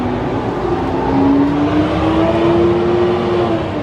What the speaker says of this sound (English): Here comes the truck.